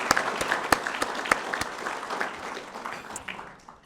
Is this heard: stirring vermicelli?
no